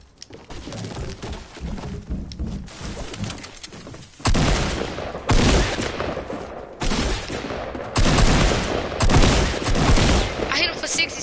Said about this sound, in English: It's a dude with a shotgun, bro.